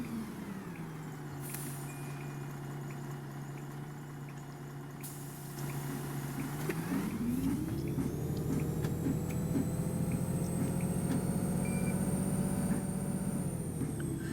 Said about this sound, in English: It's also really nice to drive a Volvo Olympian that sounds like a Volvo Olympian.